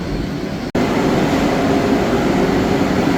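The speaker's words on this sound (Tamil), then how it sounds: "பார்த்தீங்கன்னா இங்கே வந்தே பாரத் ட்ரெயின் நிற்கிது" Vande Bharat train at a railway station platform, heard as a loud, steady broadband rumble and hum of the train and station with a constant tone, broken by one sharp momentary dropout near the start.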